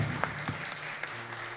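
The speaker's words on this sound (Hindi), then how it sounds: "जोरदार तालियां बजाए खुदा के जलाल के लिए" Brief spell of congregational applause during a Holy Communion church service, a moderate, even wash of many hands clapping at middle distance with no voices over it.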